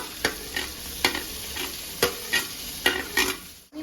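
A spatula scrapes and stirs fried potato, eggplant and bitter gourd in a pan, six or seven distinct sharp scraping strokes at a regular pace over a soft background sizzle, close up and with no talking.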